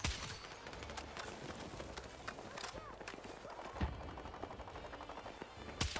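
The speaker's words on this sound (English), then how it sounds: "Eyes on the machine gun! Hostile machine gun in sight!" Hostile machine gun fire in Battlefield 6 multiplayer: a scattered run of sharp, fairly distant shots with one louder crack near the end, heard under quiet talk.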